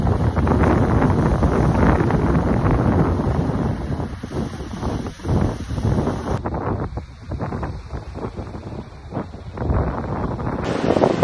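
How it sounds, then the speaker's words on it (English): Steady wind buffets the microphone outdoors beside the water, a loud continuous rush with gusty swells that never lets up for the whole stretch. "It's probably a little windy"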